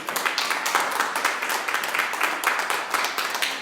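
A crowd applauds steadily at a church service, dense clapping from many hands that holds an even level throughout.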